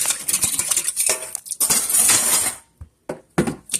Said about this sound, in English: I'm gonna rinse this.